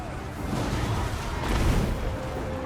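Flame cannon firing during a Total War Warhammer battle between Dwarf and Bretonnian armies, a steady roaring rumble of battlefield fire and blasts that swells slightly midway and carries on throughout.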